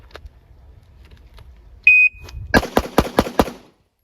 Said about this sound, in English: stand by, wait for a beep.